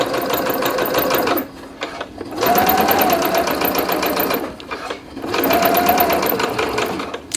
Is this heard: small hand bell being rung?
no